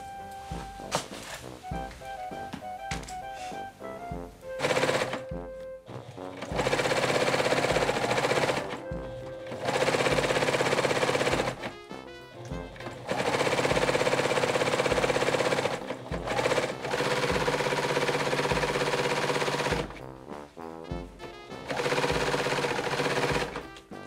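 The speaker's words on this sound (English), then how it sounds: "On the serger, you don't want to go over a pin." A serger stitching the side seam and inseam of trouser legs whirs in rapid bursts of several seconds each, separated by short pauses as the fabric is repositioned.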